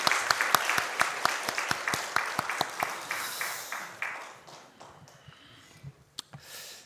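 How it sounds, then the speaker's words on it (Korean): A church congregation in a Korean Sunday worship service breaks into applause, a brisk run of claps that thins and fades over several seconds, with a few scattered final claps and faint murmuring. "우리 다시 한번 격려하는 의미에서 박수합시다."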